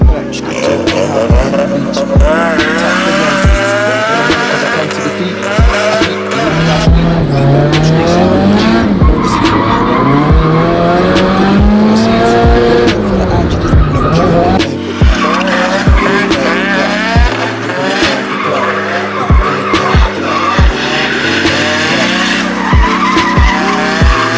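A modified drift car built to British Drift Championship spec skids with loud, sustained tire squeal over a roaring, revving engine, close and continuous throughout.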